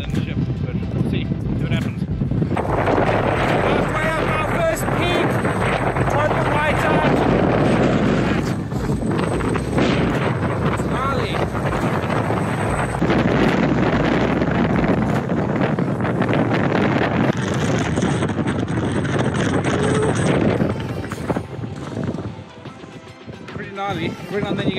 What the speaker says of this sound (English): Every now and then you get these little dips in the wind, it's so bizarre.